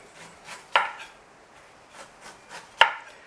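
A knife peeling a whole pineapple with its top and bottom cut off, giving soft repeated scraping strokes and two sharper cuts that land close and crisp, with no voices.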